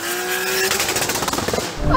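A loud turbocharged Toyota Supra TRD engine revs hard, then stutters in rapid pulsing bursts as it bounces off the rev limiter, up close.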